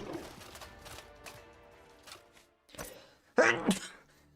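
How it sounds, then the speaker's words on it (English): A person sneezes once sharply near the end of a live video game session, a loud close burst after quieter, faint background sounds. "Had to sneeze."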